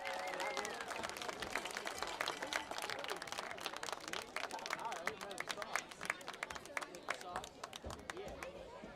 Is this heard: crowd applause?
yes